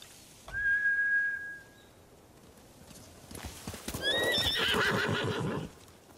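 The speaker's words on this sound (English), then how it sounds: "Bastards scared off the horses. They're samurai mounts, trained to return to their masters." Horses neigh and whinny in Ghost of Tsushima, with one long clear whinny near the start and a louder burst of several overlapping whinnies and hoof clatter later on.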